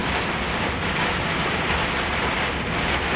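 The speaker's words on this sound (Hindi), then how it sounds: "बारिश देखो कितनी तेज़ है, कैमरे में तो बिल्कुल क्लियर दिख रहा है।" Heavy rain pours onto a car driving through mountains in Italy, making a loud, steady, unbroken hiss and drumming on the glass and body, with no talking.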